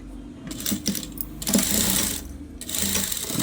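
A sewing machine stitching in steady mechanical bursts, its rapid rattling rhythm pausing briefly and resuming, close and prominent with no talk over it.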